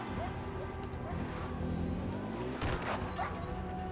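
Dog barks from a video game, a few sharp yips bursting out around the middle over steady game music and engine-like noise, fairly close and brief.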